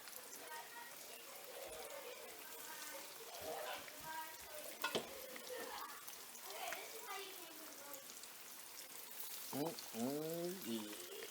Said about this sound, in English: I let the oil get a touch hotter, maybe cook a little faster